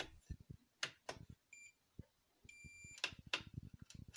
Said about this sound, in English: The multimeter will stop beeping when the right lever is moved up.